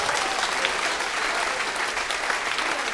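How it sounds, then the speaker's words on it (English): Steady, dense applause from a stand-up comedy audience, sustained and even for the whole stretch with no voices breaking through. "Clap it up for Kyle one time, guys."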